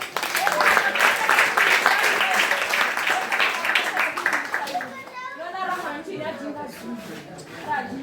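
A church congregation at a Sunday service breaks into loud clapping and cheering for Jesus, with many voices including children mixed in; the applause fades after a few seconds as talk continues.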